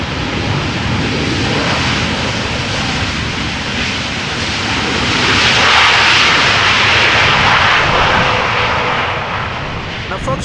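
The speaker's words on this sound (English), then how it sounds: "Now also seeing a KLM 737 flying over the city of Amsterdam" A KLM Boeing 737 jet airliner passes over Amsterdam near Schiphol, a loud, continuous engine roar that swells toward the middle of the pass and then slowly eases.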